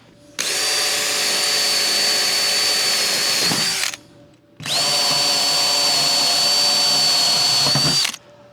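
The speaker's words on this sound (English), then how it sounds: "let's get this drilled." A power drill bores holes in a steel roof panel in two loud, close bursts of about three and a half seconds each, a high steady whine with a grinding edge, separated by a short pause and ending with a clatter.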